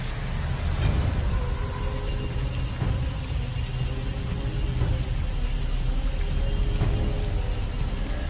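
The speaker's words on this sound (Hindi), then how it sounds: "बारिश अब और भी तेज होती जा रही थी।" Heavy rain pours down steadily in a dense, unbroken hiss, with a low rumbling undertone like distant thunder beneath the constant downpour.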